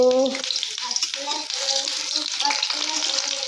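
Onions fry in hot oil while being stirred, giving a bright continuous sizzle with occasional scrapes, under a background voice and faint music.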